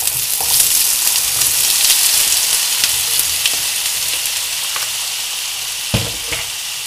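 Garlic and chopped potatoes fry in a hot pan for lentils with potatoes, giving a loud, continuous close sizzle with a brief clunk of stirring near the end.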